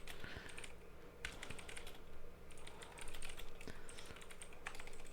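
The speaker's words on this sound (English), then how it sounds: "I like listening to the typing" Rapid clicky typing on a computer keyboard, with bursts of crisp keystrokes at close range, pausing briefly between flurries and without talking.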